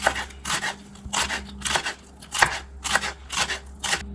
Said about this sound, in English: Try to cut it as fine as possible.